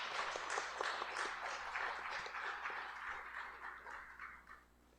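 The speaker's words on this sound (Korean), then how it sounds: "우리 소망속 감사의 박수 한 번 더 드릴까요?" A church congregation at a Sunday worship service claps for a choir after its hymn, the applause quiet and fairly close, holding steady before thinning out and fading at the end.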